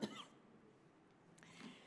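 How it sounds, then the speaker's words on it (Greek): A woman lecturing on epigenetics and autoimmune disease gives a single sharp cough, close and loud at the start, followed by quiet room tone with faint breathy traces. "Με συγχωρείτε, αλλά έχω και ένα βήχα"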